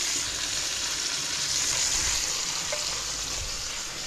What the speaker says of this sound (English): I'm just going to move the chicken so that the oil gets under the skin.